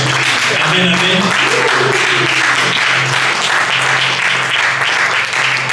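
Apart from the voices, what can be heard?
congregation applause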